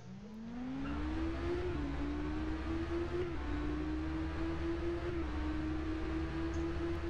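A Kawasaki Z1000 naked motorcycle engine roars steadily in the RIDE racing game, a sustained loud drone rising in pitch as it accelerates, with a brief dip around a gear shift, alone without talk.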